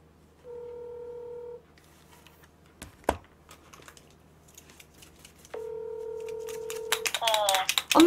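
Phone dialing tones from a call being placed: a steady electronic tone holds for about a second, then a click and faint tapping, then a longer tone. A voice starts just as it ends.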